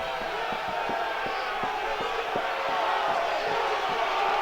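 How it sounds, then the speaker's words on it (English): Rowdy college baseball crowd at Founders Park during a Texas versus South Carolina game, a steady roar of cheering and yelling with rhythmic stomping or clapping beats pulsing underneath throughout. "Crowd's getting rowdy here at Founders Park"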